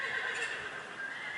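A horse whinnies over a continuous patter of hooves clip-clopping close by during an arena riding session, with no talking.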